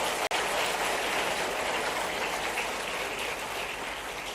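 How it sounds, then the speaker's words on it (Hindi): Dense, steady applause from a large audience at a government scholarship distribution event in Bhopal, a continuous wash of many hands clapping at even loudness throughout, with a brief dropout near the start. "तो जरा ताली वाली बजाओ, आगे बढ़ो"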